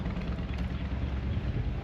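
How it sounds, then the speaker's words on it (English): Loud, continuous low buffeting rumble of strong wind hitting a microphone at a park on the Pacific coast, steady throughout with no other clear sounds. "Probably hearing a lot of wind."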